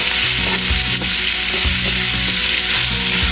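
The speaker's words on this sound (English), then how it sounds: "give it a little stir" Venison and onion are stirred in a pan of hot fat at a camp cook, with a loud, continuous sizzle up close and soft scraping strokes of the utensil rising now and then beneath it, no voices.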